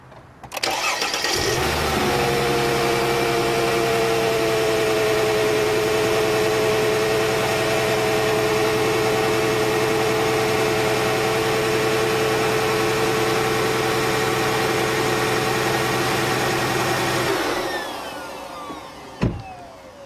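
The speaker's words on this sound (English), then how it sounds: "first you need to start up the car and observe the engine and see how much it vibrates" A car engine cranks and starts, then idles roughly on three cylinders because of a failed ignition coil, a steady, throbbing drone held for about fifteen seconds before it shuts off with a couple of clunks.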